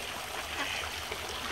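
Water trickles steadily through the pipes of a recirculating hydroponic growing system, a continuous soft gurgling wash with no breaks and no voices.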